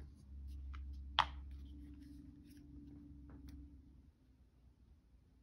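A pen scribbles on a piece of paper up close. The strokes are faint, short and scratchy, with one sharper tap, over a low steady hum.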